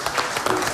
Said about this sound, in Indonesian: Tepuk tangan dulu dong untuk Pak Parno.